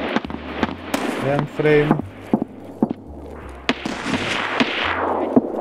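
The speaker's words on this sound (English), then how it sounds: "I don't like that shot, that sound of that shot, because I think it's a player." Distant gunshots ring out in the video game Escape from Tarkov, a few sharp cracks and thumps scattered irregularly beneath a player's close speech and in-game noise.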